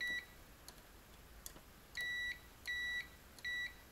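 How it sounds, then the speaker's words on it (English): Multimeter continuity beeps as the probes touch across fuse terminals while an inverter with an internal short is checked: three steady, moderately loud tones, each about half a second long and evenly spaced, with a few faint clicks before them. "if we go ahead and check continuity, see if I touch these, they beep"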